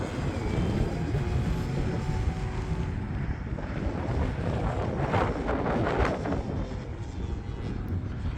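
An FMS Pitts RC airplane flies low on a windy day, its motor whine partly buried under heavy, constant wind rumble on the microphone, with a brief rise in engine pitch midway.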